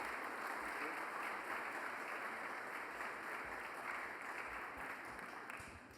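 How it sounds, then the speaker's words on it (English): Steady audience applause at an awards evening for progressive leadership, honoring generous partners and supporters; a continuous wash of many hands clapping at some distance, fading slightly at the end. "Please give them a round of applause."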